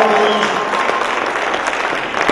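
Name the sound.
audience applause for athletes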